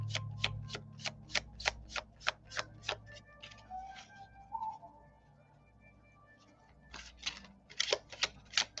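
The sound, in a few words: shuffling tarot cards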